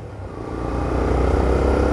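Honda Twister motorcycle accelerating away on a street in Natal, its engine rising into a steady, building roar that stays fairly loud and close throughout.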